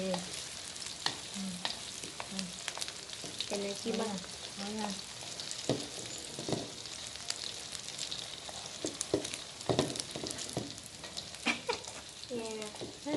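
Egg omelette sizzling in a frying pan while a utensil stirs and scrapes it, with repeated clinks and scraping strokes over a soft frying hiss, close and fairly quiet, while a person talks.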